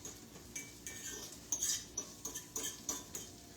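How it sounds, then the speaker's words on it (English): Onion being sauteed in a pan, heard as a faint sizzle beneath soft, irregular clinks and scrapes of a utensil against the pan, close but quiet, with no talking. "we're sauteing up a little bit of onion"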